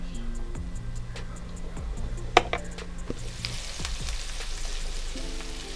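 Finely chopped medium onion sizzling and frying in oil and ghee in a pan, a steady soft crackle throughout with occasional stirring clicks and a single sharp utensil tap.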